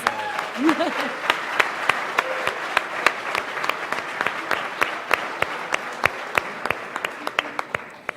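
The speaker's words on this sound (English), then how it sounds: "One more round of applause." An audience at a Los Angeles tech showcase event claps, the sound thinning over time into scattered individual claps that ring out sharply and sporadically, with some voices heard briefly near the start.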